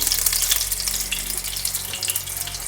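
Oil sizzles and crackles steadily as a poppy-seed flatbread fries in a covered pan, a close, continuous hiss with popping bursts.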